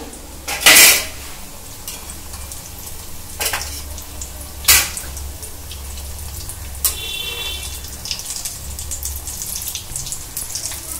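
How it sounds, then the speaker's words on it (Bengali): Bread rolls fry two at a time in hot refined white oil, giving a steady close sizzle broken by a few sharp metal clinks of a utensil against the pan, with no talk. "আমি কিন্তু এই ব্রেড রোলগুলো একটা একটা করে তেলে ছেড়ে দিচ্ছি।"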